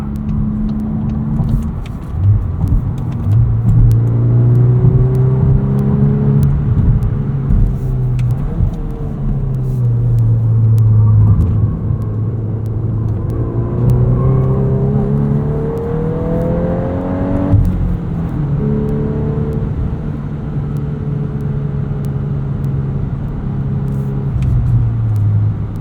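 Manual 2023 Volkswagen Golf R 20th Anniversary Edition heard from inside while driving, a loud steady engine and exhaust drone rising and falling through gear changes, with revs climbing and dropping over the drive.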